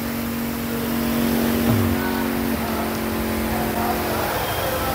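Karwa Gold charging spray pump engine running at a pump house, a steady close drone with a humming tone and a brief pitch dip midway, continuous throughout; a voice may murmur faintly underneath.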